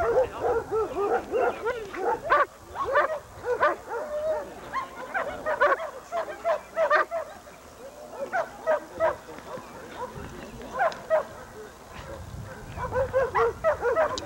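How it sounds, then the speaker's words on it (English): A dog named Jack yips and whimpers in short bursts close by, among repeated barks, while people give commands and talk throughout. "Go to your dog and pet him."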